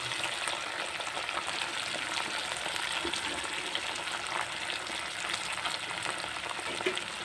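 Pork seasoned with salt, turmeric and five-spice sizzles loudly in a pan. A steady, dense frying hiss runs throughout, with faint scraping from the stirring and no talk.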